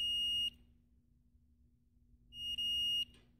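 A multimeter on continuity test, probing a 30V benchtop power supply board, gives two sharp, steady electronic beeps, the first about half a second, the second longer after a pause, close and clear over faint low hum.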